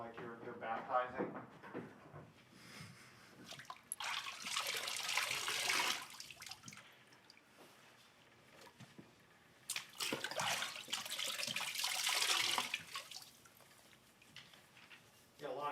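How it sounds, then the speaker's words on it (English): Water poured from cupped hands, like a baptism, splashes in two bursts of bright trickling and dripping, separated by quieter stretches, close and fairly faint, with speech around it. "put your hands in and cup some water and then let it go so like you're baptizing"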